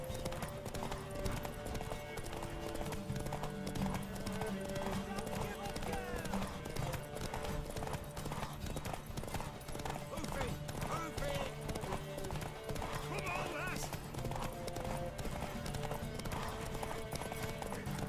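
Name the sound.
horse hooves and neighing from a video game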